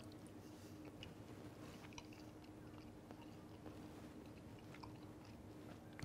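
Chewing a bite of rare steak, soft quiet wet mastication sounds repeating steadily close to the mic, with no talking.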